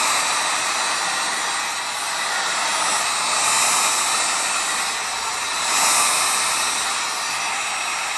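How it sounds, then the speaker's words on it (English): A very hot heat gun blows a steady, loud airy hiss in a shop, the rushing tone swelling slightly twice as it is moved, with no talking. "Heat gun is very hot."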